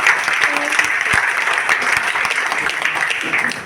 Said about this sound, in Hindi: बजाओ ताली अपने लिए